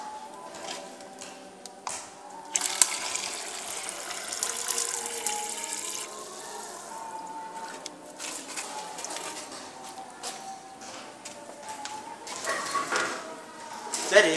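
A tap running at high flow in a school physics lab, water gushing and splashing unevenly into a plastic cup, with a person talking over it.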